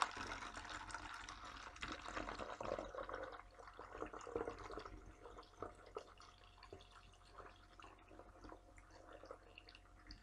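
Water poured into a mix of skimmed milk and a little powder for a homemade plant pest treatment, a splashing, trickling fill heard close up and fairly quiet, with no talking.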